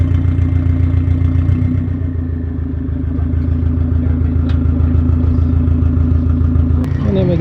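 A McLaren supercar engine rumbles steadily as the car passes nearby on a street where supercars gather, with a low, continuous throb and a sharp click near the end.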